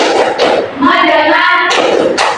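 Schoolchildren in a classroom perform a rhythmic focus-clap routine: loud bursts of group clapping bracket a short stretch of chanted voices, all close and energetic.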